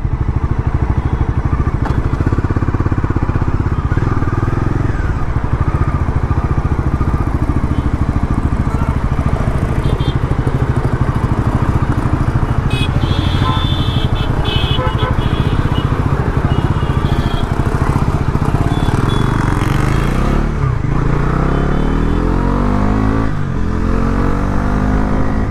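A Bajaj Pulsar NS 400Z motorcycle is ridden on the road, its engine droning loud and continuous with rising revs and heavy wind rush at close range.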